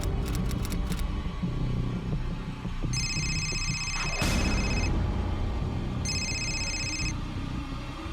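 A telephone rings in two bursts of electronic trilling, each about a second long, over a low, throbbing dramatic music bed with a sudden swell between the rings.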